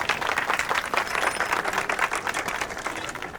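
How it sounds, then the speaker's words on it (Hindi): A crowd claps steadily at a gathering of seated people, a dense patter of many hands sustained throughout at moderate volume, with no speech over it. "ताली ताली।"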